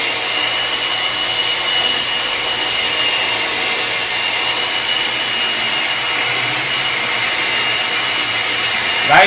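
A stainless steel pole spear slip tip being ground with a file or grinder, a loud, steady, continuous hissing grind that holds unbroken from start to finish with no voices.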